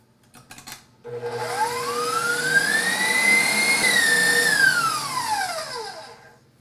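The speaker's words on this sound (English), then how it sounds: "now we can bring our egg whites up to a nice, stiff, shiny peak" Electric mixer whipping egg whites to stiff, shiny peaks for a gluten-free chocolate nut cake, a loud steady whine that rises in pitch then falls, continuous for several seconds with no talk.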